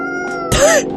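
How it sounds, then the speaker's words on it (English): A cat in the video game Coffee Talk Episode 2 gives a single short, rising-then-falling meow, loud and close over a soft steady game music background. "Of course the cat's back."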